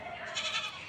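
A goat gives one short, close bleat that rises and falls within a second, with no voices.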